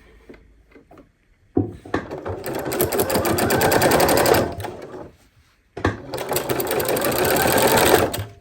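A sewing machine stitches denim quilt strips in two long, fast, loud bursts, separated by brief pauses with faint handling and clicks.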